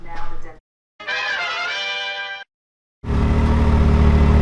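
A Can-Am Maverick X3 side-by-side, fitted with upgraded shocks and a front sway bar, roars into a loud, close, deep engine rumble near the end, after brief voices and short silent gaps.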